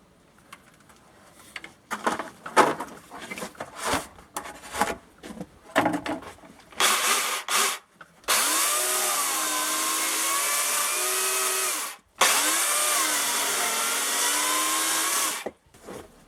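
A Makita UC4041A electric chainsaw rip-cuts wood along the grain outdoors, with a few short revs and knocks before two long, loud, steady cutting runs separated by a brief pause.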